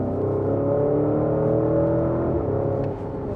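A powerful Porsche SUV of nearly 750 horsepower and 1000 Nm, heard from inside the cabin while driving, gives a deep, sustained engine drone that swells and then eases off near the end.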